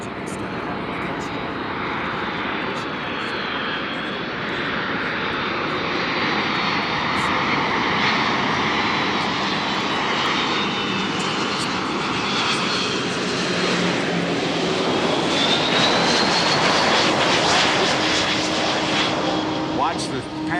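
A USAF C-17 at an air show runs its engines with thrust reversers deployed, giving a loud, sustained jet roar and broadband rush that swells steadily, with a faint voice talking underneath.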